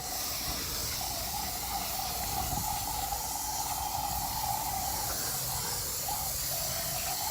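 Cleaner being sprayed onto a valve cover of a GM pickup truck engine, 1988–98 OBS generation: a continuous, steady loud hiss running the whole stretch with no breaks, close by, with no talking.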